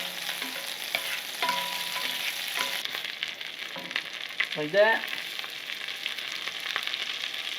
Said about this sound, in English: we don't want to go cheap on the butter because we want our trout